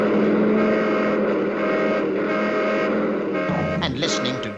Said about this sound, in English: we had to practice dodging traffic.